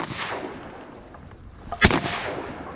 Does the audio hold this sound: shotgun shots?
yes